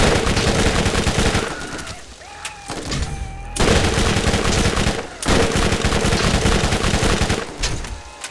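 Sustained rapid gunfire from a corrosive weapon in the looter-shooter Borderlands, loud and close, firing in long continuous bursts broken by brief pauses for reloads, with no talking.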